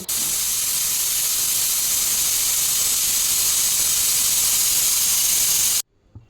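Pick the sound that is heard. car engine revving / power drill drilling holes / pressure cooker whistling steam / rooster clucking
pressure cooker whistling steam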